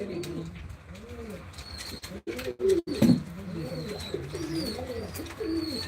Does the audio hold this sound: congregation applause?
no